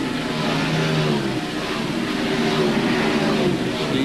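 NASCAR stock cars, among them the Burger King Chevy, race at Watkins Glen in 1997, a constant loud roar of engines at full throttle with the rising and falling whine of cars passing, with no speech over it.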